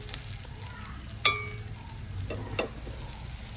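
Fenugreek seeds dropped into hot oil give a sharp crackling burst, then a low steady sizzle with one more brief pop later, close and fairly quiet with no talk.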